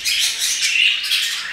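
Pet budgerigars and finches in an indoor bird room chatter and squawk close by, a busy, continuous tangle of shrill chirps and calls with no talking.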